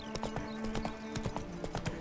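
A horse's hooves clip-clop at a brisk, even trot in The Witcher 3, with rhythmic sharp knocks over a low steady game hum and no talking.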